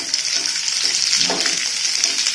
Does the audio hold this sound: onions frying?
yes